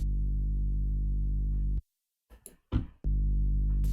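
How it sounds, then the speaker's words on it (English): Distorted synth layer in a dark UK garage production, a thick sustained harmonic-rich tone that cuts out for about a second of sparse clicks and bursts, then returns loud and steady. "Distortion"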